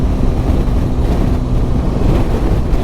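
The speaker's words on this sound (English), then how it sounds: "what with it being so windy up here" Steady wind rushing and buffeting across the microphone on the Black Mountain Pass, a continuous low roar with no voices.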